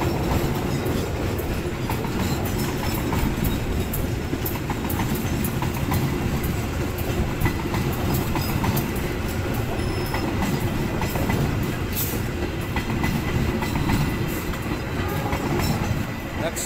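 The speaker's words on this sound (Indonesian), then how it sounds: "KA Argo Bromo Anggrek masuk stasiun Jatinegara, dan ini rangkaiannya full eksekutif ya" KA Argo Bromo Anggrek, an all-executive luxury sleeper passenger train, entering Jatinegara station: a steady loud rumble of wheels with rhythmic clickety-clack and brief squeals, close by and sustained throughout.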